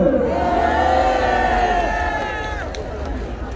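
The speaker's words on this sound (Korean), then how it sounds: "기쁨의 함성입니다" A large crowd at an outdoor rally roars together in a sustained, loud mass of shouting and cheering, voices blending into one swelling cry that slowly eases toward the end.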